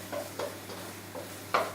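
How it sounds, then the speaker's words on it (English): Garlic and ginger stirred in a wok, a few soft scraping strokes over a faint low sizzle, the last stroke louder, close and without talking. "going to put my garlic and ginger into my wok. So give a good stir."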